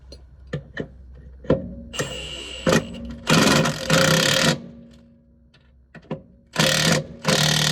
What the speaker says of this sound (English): last bit, tightening up that bottom bolt, and we'll be good to go